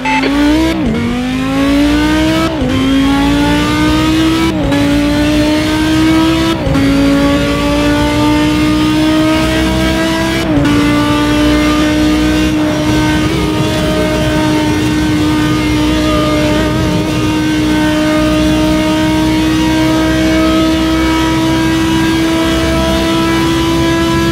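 A race car flat out around Spa-Francorchamps in Assetto Corsa, its engine note climbing steadily through the gears with sharp breaks at each upshift, loud and continuous for the whole stretch with no voices.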